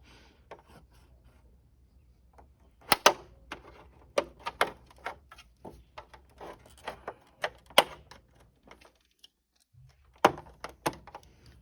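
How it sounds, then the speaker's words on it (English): A small plastic pry tool works a cover piece off the handlebar of a Honda C125 Super Cub, giving scattered sharp clicks, snaps and scraping taps up close, with short pauses between bursts. "So I'm using a little pry tool here."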